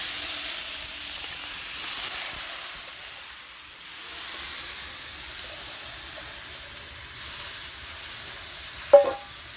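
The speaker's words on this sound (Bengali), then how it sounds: "এবার আমি কড়াইতে চালটা যে ধুয়ে রেখেছিলাম ভেজে নিচ্ছি, দিয়ে দিলাম, কড়াইতে দিয়ে দিচ্ছি।" Washed rice frying in a very hot karai, a steady steamy hiss with a soft stirring texture and a brief clink near the end, no voices.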